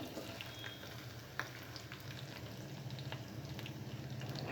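A steady sizzle of onion pieces frying in hot oil after tempering seeds, with a few faint clicks and stirring sounds over the continuous crackle.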